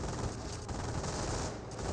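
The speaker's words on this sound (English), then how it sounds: "rifleman squads kept these sectors getting suppressed by the garrison MG42" Sustained MG42 machine-gun fire from a garrisoned position in the strategy game Company of Heroes, a steady rattling stream at moderate distance with no talk.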